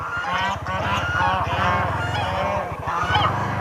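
Geese honking loudly and continuously beside a rainy village road, a dense, overlapping chorus of harsh nasal calls close by with no talk.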